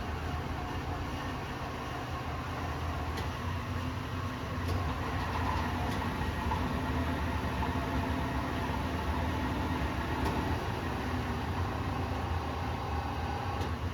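A Cyclematic Turn-Pro CTS-27 lathe with 5C collet closer runs steadily in reverse high gear, giving a continuous machine hum with a faint whine that holds an even level throughout, no voices.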